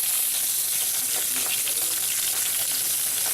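Pork chops fry in a skillet over medium-high heat, giving a steady bright hiss and crackle of sizzling fat, close and continuous with small pops and no voices.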